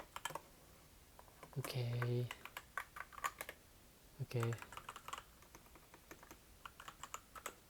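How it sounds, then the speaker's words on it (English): Rapid clicks of a computer keyboard being typed on fast, in quick irregular bursts heard close up, with someone speaking briefly over the keys. "I typed too fast."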